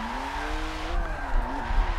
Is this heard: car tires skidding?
yes